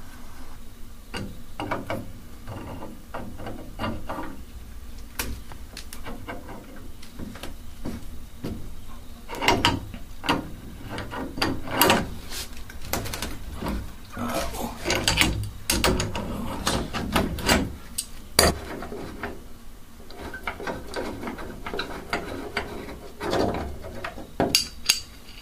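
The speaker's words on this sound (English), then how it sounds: "now you could use an adjustable wrench to remove the spindle right here," Metal clicks, scrapes and ratcheting knocks from an adjustable wrench turning out a bathtub faucet spindle, close and irregular, with sharper clanks in the middle and toward the end.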